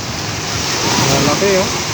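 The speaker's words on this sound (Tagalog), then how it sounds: "Lakas ng alon, mga tol, oh. High tide, eh." Heavy high-tide surf rushes onto a beach in a dense, steady wash of noise, with a voice briefly speaking near the end.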